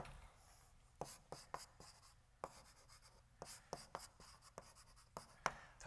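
Chalk or marker strokes on a board during a physics lecture, a series of sharp taps and scratches arriving in irregular bursts, fairly close, with no voices over them.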